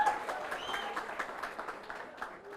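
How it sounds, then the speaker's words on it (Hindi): A creators' summit audience gives light, scattered applause. The clapping is fairly faint and uneven, with a few separate claps standing out over a soft crowd murmur. "तो अब अपने लिए भी बहुत तालियां बजा सकते हैं।"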